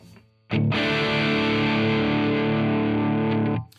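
A single heavily distorted electric guitar chord through humbucker pickups and the free AmpliTube 5 amp simulator rings out thick and saturated for about three seconds before being cut off, loud and alone.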